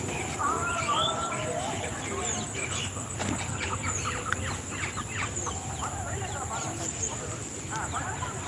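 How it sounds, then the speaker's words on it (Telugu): A rooster and hens on a village farm, crowing and clucking faintly in scattered bursts, with steady outdoor background noise and people talking throughout. "ఇక్కడైతే చూడండి కోడి పుంజు"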